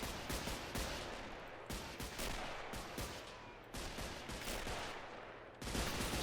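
Dense machine gun and rifle fire from a World War I battle in the Men of War: Assault Squad 2 game, loud and continuous with repeated sharp bursts and cracks, almost no pause between volleys.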